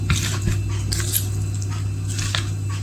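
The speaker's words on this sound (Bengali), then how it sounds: "এবার এটাকে ভালো করে মেখে নেব।" Hand-mixing food with mustard paste, coriander leaves and green chilli makes soft wet squishing and slapping sounds, close and irregular, over a steady low hum.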